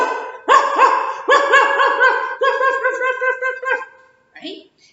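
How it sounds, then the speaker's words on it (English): A dog barking in a run of repeated, closely spaced barks lasting several seconds before trailing off, loud and close, followed by a short higher yelp or whine. "What does this dog say?"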